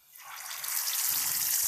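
A mutton shami kebab drops into hot ghee and bursts into a rising, bright sizzle that quickly settles into a steady crackling fry, close and alone.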